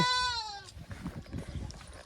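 A goat gives one short, wavering bleat up close, followed by low, faint rustling and background noise.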